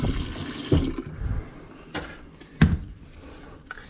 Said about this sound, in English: And then I'll turn the hot water on and do the same as I did with the cold water.